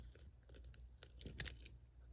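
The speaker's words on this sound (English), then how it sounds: "and then pull the keys." Keys on a 2021 Toyota Venza key fob jangle and clink as the metal key is pulled out, a few quick close metallic rattles over a low background hum.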